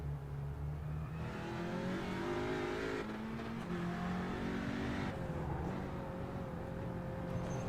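Audi RS3 race car in iRacing at Oran Park, engine holding a steady loud drone that shifts pitch as it drops down to third gear, rising and falling revs through the corner with no talk.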